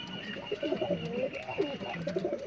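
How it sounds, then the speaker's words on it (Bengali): A Madras pigeon coos in quick, warbling low phrases close to the microphone, with a faint steady tone underneath and no clear talk. "আর একটা ম্যাড্রাস পায়রা বার করে নিয়েছি"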